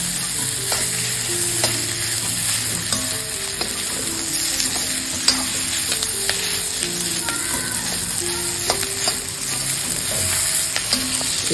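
Small onions and potato cubes for potato podimas sauté in a hot pan, with a continuous sizzle under repeated clinks and scrapes of a spatula stirring, close and busy with no voices.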